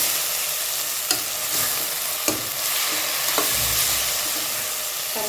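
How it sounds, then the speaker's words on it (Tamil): Ginger-garlic paste fries in a pan for mutton kuzhambu with onion and tomato, a steady loud sizzle broken by a few scraping strokes of a spoon as it is stirred, with no voices. "நல்லா மிக்ஸ் பண்ணி விட்டுடலாம் இந்த இஞ்சி பூண்டோட பச்சை வாசம் போனதுக்கப்புறமா"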